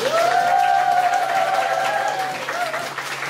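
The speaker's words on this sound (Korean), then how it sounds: "그분께서 강의해 주실 거니까 여러분들 모실 때 큰 박수로 맞이해 주시면 감사하겠습니다" Audience applause greets a health lecturer being welcomed onto the stage at an indoor talk, a steady wash of clapping lasting a few seconds at even loudness, with a faint sustained tone running underneath.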